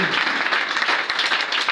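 A church congregation applauds during a prayer service, with dense, steady clapping from many hands filling the space for the whole stretch.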